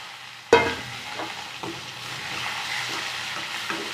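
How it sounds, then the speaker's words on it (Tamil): Sautéed pirandai and tamarind stirred in a pan: a sharp clatter as the ingredients drop in, followed by a soft continuous sizzle with a few light stirring scrapes. "நல்லா கிளறி விட்டுக்கலாம்"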